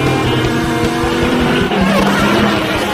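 A pack of animated race cars launches off the start line in a Tokyo race, a loud dense roar of revving engines and rising whines that stays constant and close throughout.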